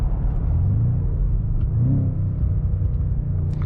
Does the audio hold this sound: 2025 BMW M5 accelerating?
yes